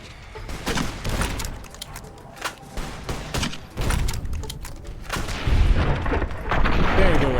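A grenade explosion in the game Fallout: New Vegas booms heavily amid a dense, continuous wash of game noise and gunfire-like rumble, with a voice speaking briefly over it.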